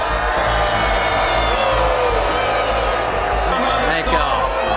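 Large Trump-supporting crowd in Pickens cheering, whooping and shouting to welcome a senator, a loud continuous roar with scattered individual yells and amplified voices mixed in.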